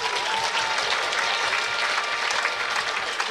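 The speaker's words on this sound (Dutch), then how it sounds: "Jou had een applaus, Sigrid Bokma" An outdoor crowd at a Frisian fierljeppen championship claps steadily and densely throughout, a continuous wash of applause at moderate loudness.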